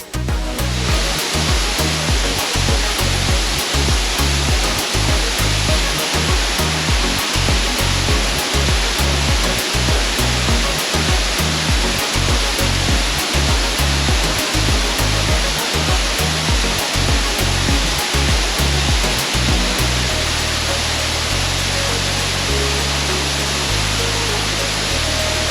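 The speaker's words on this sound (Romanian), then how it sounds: "cascada, aflată pe un masiv stâncos cu numele de Laden de Man, dintele omului" Waterfall cascading down a rocky massif surrounded by bamboo forest in Ivory Coast, a loud continuous broadband roar of falling water that stays constant throughout, with no talk.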